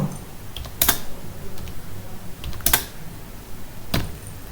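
Sparse keystrokes on a computer keyboard, a few distinct clicks spaced about a second apart over a quiet room background, close by with no talking.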